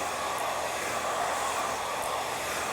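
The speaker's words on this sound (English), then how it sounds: "you can even hit it with the blow dryer like that, towards the face" A blow dryer roars steadily at close range while a stylist dries and smooths hair forward toward the face, a constant broad whoosh with no break.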